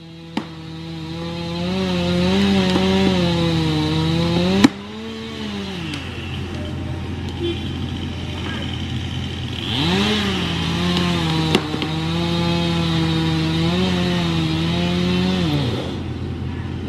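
A chainsaw works on trees being cleared from a county road on a Monday morning, its engine droning steadily with rising and falling revs across the cut, plus a couple of sharp knocks.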